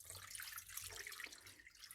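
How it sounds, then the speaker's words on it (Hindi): Water runs from a tap into a bowl of raw fish for soaking, a faint, continuous splashing trickle heard close with no talk. "और इतना पानी डालूंगी कि मछली अच्छी तरह डूब जाए।"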